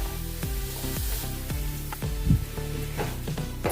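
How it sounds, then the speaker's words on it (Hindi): Green peas roasting in a pan over a low flame for dhaba-style matar sabji give a steady close sizzle, broken by periodic scraping stirs of a spatula, with no talk. "ये देखिए हमने लगातार चलाते हुए कम गैस के ऊपर 6-7 मिनट इसको हमने अच्छे से भून लिया है।"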